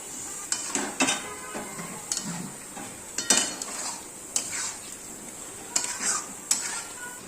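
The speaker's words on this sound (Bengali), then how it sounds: "এরপর আমি চিকেনটা দিয়ে দিচ্ছি" Chicken hitting a hot pan for a kasuri methi chicken curry, giving a steady sizzle with sharp metallic clanks and scrapes of a utensil against the pan at irregular intervals, close by.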